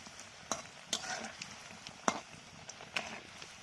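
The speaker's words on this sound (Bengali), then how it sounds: "যে কোনো পকোড়া ভাজার জন্য একটু আস্তে করে দিলে পকোড়াটার ভিতরে ভালোইভাবে ভাজাটা হয়" Thankuni (pennywort) leaf pakoras frying gently in oil over low heat, a quiet steady sizzle with occasional sharp scrapes and clicks as the fritters are turned.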